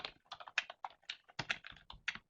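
Computer keyboard typing during an online career webinar: quick uneven bursts of keystrokes clatter close by and alone, with short pauses between clusters.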